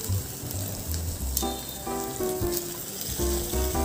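Red chili powder sautéing in hot oil with spice masala for stuffed eggplant, giving a steady crackling sizzle with scattered pops, close and fairly loud, with no talking.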